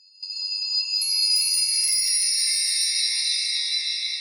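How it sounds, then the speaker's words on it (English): Wind chimes ring out bright and clear, several metallic tones striking together and then sustaining in a long shimmering decay, alone with no voices. "Wind chimes."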